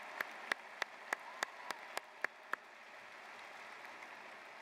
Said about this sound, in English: Please join me in giving all of these dedicated individuals a warm round of applause.